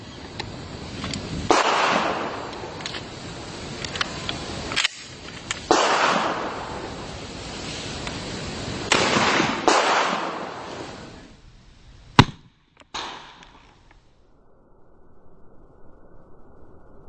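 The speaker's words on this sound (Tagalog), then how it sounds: "12 gauge shotgun." A 12 gauge shotgun fired at a Militech IIIA FAST high cut ballistic helmet during a destructive test, with a sudden sharp crack and a second quieter report near the end after stretches of bursty noise.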